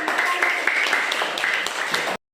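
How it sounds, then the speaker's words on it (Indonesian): A class of students clapping together in a classroom during a teaching practice session, a brief burst of brisk, fairly close applause with a few sharper individual claps, which ends abruptly. "Kita tepuk tangan yang meriah dulu ya"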